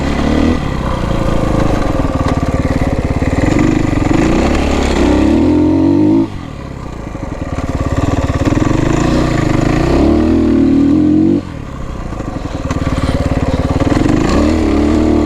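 A warm motorcycle during riding practice, its engine rising and falling in long revving surges with two sharp throttle drops, loud and close throughout.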